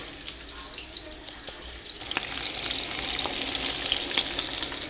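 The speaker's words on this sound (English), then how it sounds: "the fat is dripping out and right into this thing. It's almost like grilling it. and here we're frying it." Steady sizzling and crackling of meat frying in a pan with its fat dripping out, growing louder and denser partway through, with no talking.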